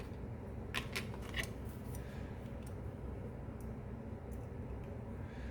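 Sandpaper rubbed by hand along the rough edge of a leather piece, giving faint scratchy strokes at irregular intervals over a low, steady background hum.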